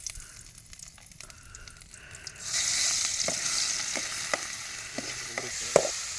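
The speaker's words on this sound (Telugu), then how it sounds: "ఈ వెజ్జెస్ని గోల్డ్ కలర్ వచ్చేంత వరకు ఫ్రై చేయాలి" Vegetables fry in hot oil while cooking outdoors in a garden. After a quiet start, a loud sizzle bursts in partway through and continues with scattered crackles and stirring clicks close by.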